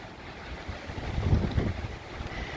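Hurricane Ida gusts roar in a yard on Dauphin Island while floodwater waves slosh and lap close by, the windy wash swelling and easing continuously.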